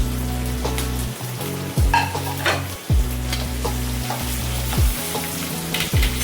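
Chopped onions sizzling steadily in a hot pan for kaju upma, with repeated scraping stirs of a spoon every second or so, close and loud, no talk.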